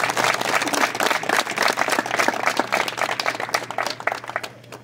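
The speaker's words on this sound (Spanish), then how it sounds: "Que se oiga fuerte el aplauso," Audience applause fills a press conference for the Oxkutzcab orange fair, a dense, steady clatter of many hands over a low hum, staying loud before thinning out at the very end.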